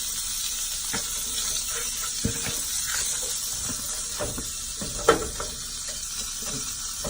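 Sausage and shrimp frying as they are poured into a hot pan, giving a steady close sizzle and hiss throughout with scattered stirring clicks and one sharp clatter.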